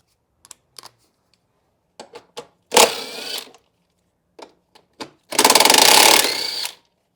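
Two bolts coming out of the battery area of a 1991-2005 Acura NSX: scattered sharp tool clicks and taps, then two louder bursts of rapid ratcheting or spinning, close and with no talk.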